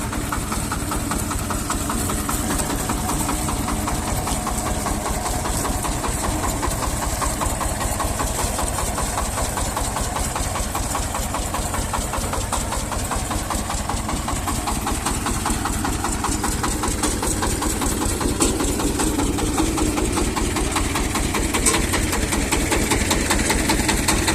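A mini pumpkin harvester combine's engine runs steadily at a close, loud idle with a constant mechanical rumble and faint knocking throughout, no voices.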